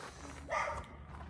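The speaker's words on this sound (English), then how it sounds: "Our neighbor's dog loves to bark." A neighbor's dog next door lets out a single short bark partway through, moderately distant, over a low steady background hum.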